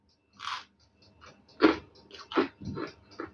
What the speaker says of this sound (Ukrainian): Чуєте, як вони хрумають?